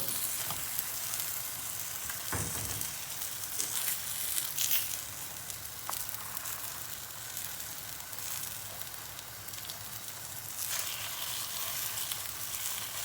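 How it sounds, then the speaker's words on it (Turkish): Crepe börek fries in a hot oiled pan with melting kashar cheese, giving a steady close sizzle all the way through, with a few brief crackles and pops along the way. "buradaki amacımız Kreplerin yüzünü kızartmak, içindeki kaşarı eritmek"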